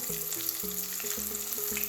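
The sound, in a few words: fish frying in hot oil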